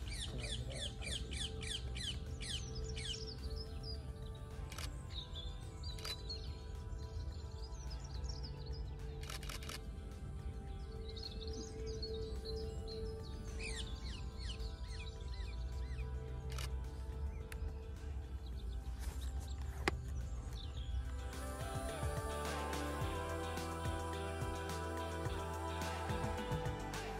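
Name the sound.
wild birds singing outdoors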